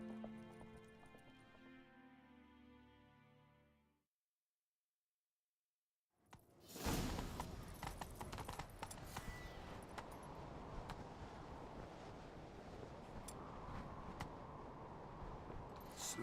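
In The Witcher video game, soft music plays, cuts to silence, then a sudden burst leads into continuous hoofbeats and rushing noise, like horses galloping at speed.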